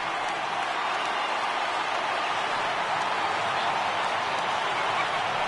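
A virtual stadium crowd of over 39,000 in a Pirates at Cardinals baseball game in MLB 18 stands and applauds, a broad, steady roar of clapping and cheering that stays level and fairly loud throughout.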